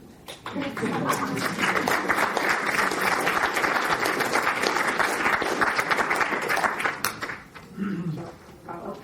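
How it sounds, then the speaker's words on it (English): A sustained round of audience applause, dense and loud, lasting several seconds before tapering off into scattered claps and a brief voice. "I would like to applaud"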